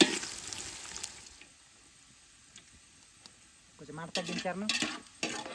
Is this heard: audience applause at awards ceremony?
no